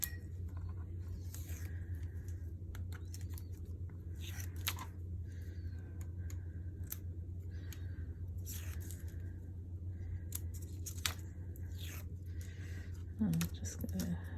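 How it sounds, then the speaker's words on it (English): Tape rubbed down and peeled off paper while assembling a pop-up 8x8 Magic Kingdom scrapbook page, heard as scattered soft scratchy rubs and crinkly tearing bursts over a steady low background hum. "I'm just gonna give that a rub and pull this tape off"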